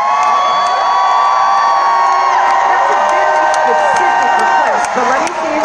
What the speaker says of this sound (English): you want me to entice the crowd to cheer again louder